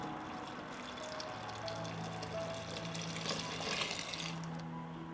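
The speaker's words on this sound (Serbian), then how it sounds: "zatim dodajem 2 litre vode u ovaj sok" Water pours into freshly ground peach juice in a pot, a soft, steady, fairly quiet liquid rush lasting several seconds with no talking.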